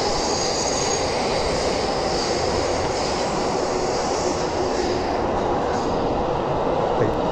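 A Ueno-Tokyo Line train in Akihabara, Tokyo rumbles steadily past close by, a continuous broadband roar with faint metallic wheel squeal, loud throughout.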